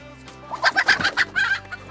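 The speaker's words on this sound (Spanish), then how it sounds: "Aquí tenemos la gallina." A hen clucks in a quick series of short, bright calls, fairly close, with no talking.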